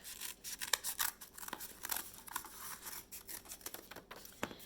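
Scissors snipping through a strip of cardboard for a homemade puppet theater stand, a quick series of crisp close cuts with irregular rhythm, fairly quiet and with no voices.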